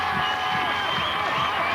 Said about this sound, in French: Mesdames, messieurs, sous vos applaudissements.